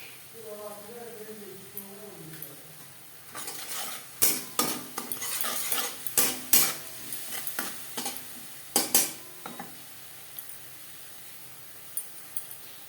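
Spices being stirred in a pan on a low flame, a soft sizzle with a burst of scraping, clinking spoon strokes in the middle, and a voice talking over the opening seconds.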